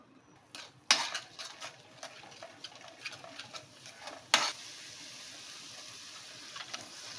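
A spoon stirring onion masala with spices in a kadhai for biryani, bringing scattered metallic scrapes and clinks with two sharper knocks against the pan, close and moderately quiet.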